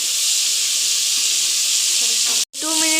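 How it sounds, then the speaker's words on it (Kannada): Tomato tempering hisses loudly in a hot pan as a steady broadband sizzle, briefly cut off near the end before returning with a few crackles and pops. "ನೀಟಾಗಿ ನೋಡಿ ಒಗ್ಗರಣೆ ಆಗ್ತಿದೆ"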